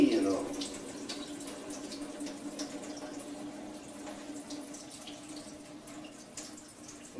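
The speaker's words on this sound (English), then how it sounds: "the greatest majority of the water just drains right off as soon as you get that tipped over" Water running and trickling off freshly cut green zucchini as it is tipped over, a steady soft splashing flow near the mic that eases slightly toward the end, with faint voice-like sounds beneath.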